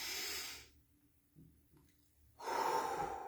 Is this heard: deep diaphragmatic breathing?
yes